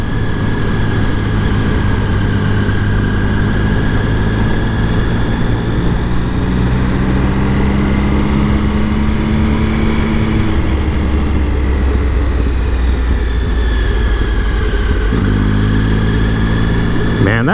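A Triumph Speed Triple three-cylinder motorcycle rumbles with a low, deep grunt, its engine note rising and falling steadily through the ride, loud and close, with wind noise throughout.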